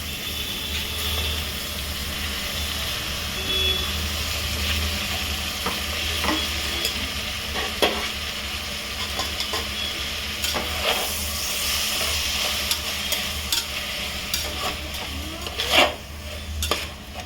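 Washed bitter gourd fries in oil with no water added, giving a continuous close sizzle, broken by frequent metal spatula scrapes and clinks against the pan while it is stirred.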